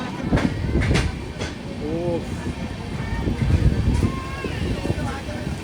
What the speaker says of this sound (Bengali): এই যে ট্রেন ঢুকছে টানেলে